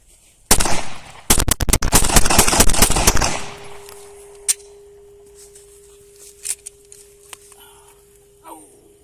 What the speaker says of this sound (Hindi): Let me do some more firing.